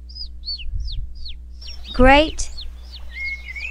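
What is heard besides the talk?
baby bird chirping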